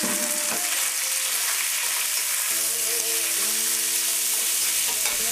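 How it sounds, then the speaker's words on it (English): Flank steak browning in a few tablespoons of hot oil in a wok, a loud continuous sizzle close up, with faint tonal clinks partway through and no talk. "we're going to start off with browning our flank steak"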